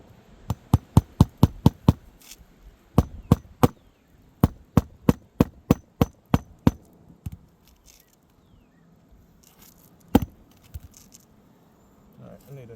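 Roofing fasteners are driven by hand with a hammer, making rapid sharp metallic blows in quick bursts of several strikes, close and loud, followed by a quieter stretch with a single later hit.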